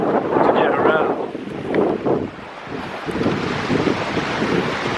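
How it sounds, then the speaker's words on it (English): Violent sea waves crash and surge at a shipwreck shore in wind and spray, a loud rushing wash with heavy wind buffeting the microphone and a speaking voice over it. "these waves are getting a little bit violent"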